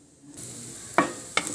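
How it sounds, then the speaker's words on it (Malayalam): Grated coconut frying in coconut oil in a pan for ginger curry, a soft steady sizzle with two sharper scraping stirs, fairly quiet and close with no talk. "ഈ തേങ്ങ നന്നായിട്ടൊന്ന് വറുത്തെടുക്കണം."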